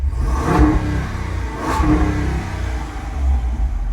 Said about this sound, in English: Give it a little tap on the gas.